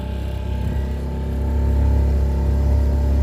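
A Hangkai 6.5 outboard boat motor runs steadily on the water, a loud, continuous droning hum that swells slightly toward the end, with no talking.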